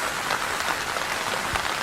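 Rain falls steadily outside, a dense, even patter of drops hitting surfaces, continuous and fairly close, with no talking over it.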